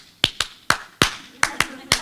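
Crisp, rhythmic hand claps in a deliberate fancy clapping pattern, seven sharp close strikes spaced unevenly with short decays, heard alone.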